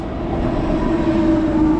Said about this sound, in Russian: Вот едет наш поезд.